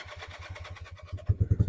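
A Honda CB175 motorcycle with a sticky throttle and a fussy choke cranks in quick, even pulses, then catches and fires up into louder, punchier beats, heard close with no talking.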